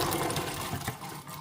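Cool water runs steadily over soaked beans being rinsed in a strainer, a continuous close, fairly loud rushing splash with no talk.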